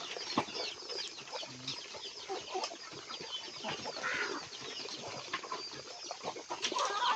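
A flock of backyard chickens by their coop clucks and chatters nonstop, a dense overlapping mix of short calls at moderate, steady loudness with no one talking.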